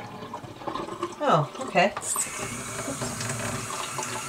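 Water runs from a kitchen tap as raw chicken thighs are rinsed for an air-fryer Shake 'N Bake meal, a steady splashing flow under brief casual talk.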